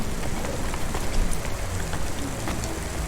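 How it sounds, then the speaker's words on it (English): Steady rain pours down in the rainy city of the video game Cloudpunk, a dense continuous hiss with scattered drops pattering on surfaces, alone and without talk. "Don't let all the rain get you down."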